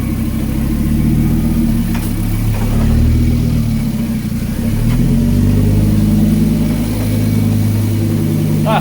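A car engine in an XR5X4 Turbo revs as the vehicle is put in gear and pulls away, a loud, close, mid-pitched drone that rises and falls through a couple of throttle swells, with no talking over it.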